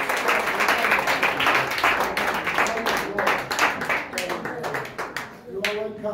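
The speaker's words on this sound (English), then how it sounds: "can we clap for the Lord?" A church congregation claps together in a dense, lively burst that tapers off toward the end, with voices mixed in and talking emerging as the clapping fades.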